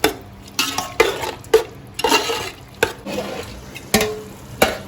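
A metal spoon stirs Goan beef and pork stew simmering in a pot with a cup of reserved stock, giving a run of close, rhythmic clinks and scrapes against the pot over a soft, steady sizzle.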